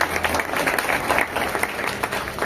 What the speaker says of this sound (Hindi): जब हम किसी का इस्तक़बाल करते हैं तो तालियों की गड़गड़ाहट होनी चाहिए।